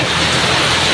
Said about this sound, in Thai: วันนี้ฝนตกนะครับฝนตกแรงมากเลยครับ เลยเสียงฝนแทรกเข้ามานะครับ